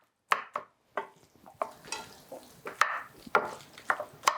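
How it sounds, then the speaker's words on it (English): A knife chops vegetables on a cutting board in a home kitchen, a series of crisp, close taps in an uneven rhythm, some single and some in quick clusters, with no talking. "I'm going to let this sit while I start chopping my vegetables."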